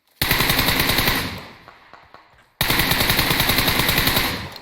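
Automatic rifle fire, apparently an AKM or M4, rattles in two long sustained bursts in a battle royale game, loud and close, with a short pause of fading echoes and scattered single shots between them.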